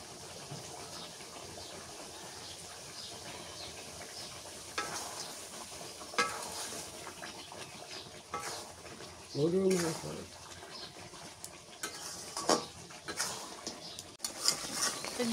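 Beef sizzles with roasted rice flour as it is stir-fried on a clay stove, quiet frying broken by spoon scrapes and clinks against the pot, with a voice speaking at times.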